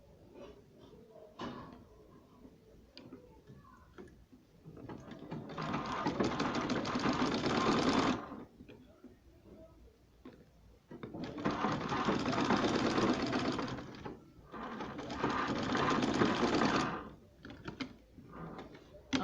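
A sewing machine stitching a dart in fabric runs in three sustained bursts of rapid mechanical whirring, separated by quieter pauses with small handling clicks, fairly close and with no talking.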